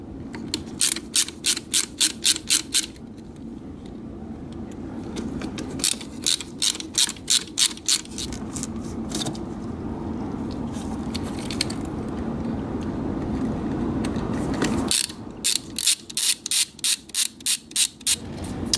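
Torx T10 bit turning out screws on the heater control valve of a 2004 BMW E46, heard as bursts of rapid ratcheting clicks in several runs over a steady low hum.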